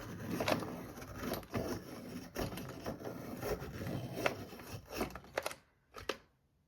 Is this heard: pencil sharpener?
yes